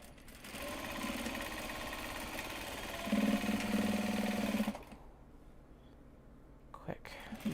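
Sewing machine back-stitching over project bag pockets, a close steady whirring run that shifts pitch midway, then stops abruptly, leaving quiet handling sounds and a few clicks.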